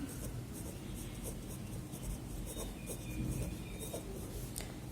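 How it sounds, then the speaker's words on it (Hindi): A pen writes out a math question on paper, giving a steady scratchy stroke texture with short bursts. The writing sounds close over a constant background hum, with no clear voices. "क्वेश्चन लिख लेंगे हम"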